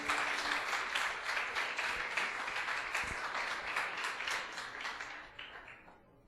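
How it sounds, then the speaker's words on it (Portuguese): A church congregation applauding during an anniversary worship service, sustained crowd clapping in a reverberant hall that fades out toward the end. "Aplauda o Senhor porque Ele é maravilhoso"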